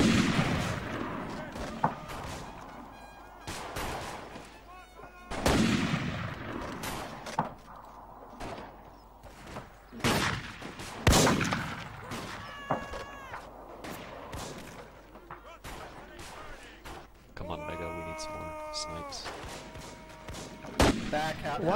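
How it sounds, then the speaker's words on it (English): Gunfire in a video game battle set in a Blood and Iron event: loud close rifle shots and volleys crack out irregularly, with distant shots and chatter between players heard in the gaps. "they're just gonna unload bullets in our direction"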